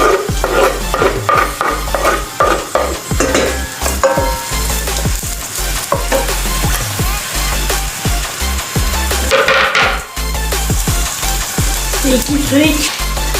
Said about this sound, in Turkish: ilk önce doğramış olduğum soğanlarımı tencereme alıyorum. Bunları biraz kavuruyorum.